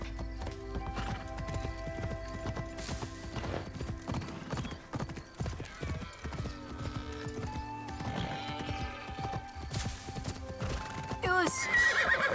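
Hooves clip-clop steadily while a horse neighs in Assassin's Creed Shadows, with a voice talking over the sounds.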